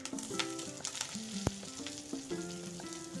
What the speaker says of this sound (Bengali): তো এখন এখানে আমি পেঁয়াজ দিয়ে দিচ্ছি পরিমাণ মতো।